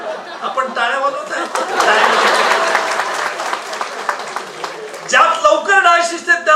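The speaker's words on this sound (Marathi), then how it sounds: "आपण टाळ्या वाजवत" Audience applause at a Marathi talk on criminal court case experiences, a dense wash of clapping swelling through the middle with scattered laughter and chatter, then a voice resumes speaking near the end.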